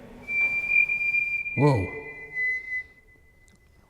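A person whistles a long, steady high note inside the old Mill Street Barracks, sustained for a few seconds and then resumed, while a voice briefly exclaims partway through.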